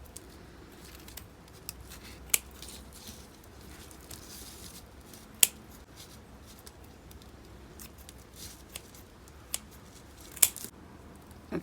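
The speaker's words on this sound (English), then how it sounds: "There's one I just broke, so I'm just gonna go ahead and cut that off." Scissors snip off a broken dahlia tuber, giving a few faint, sharp clicks spread over a quiet background with soft handling noises.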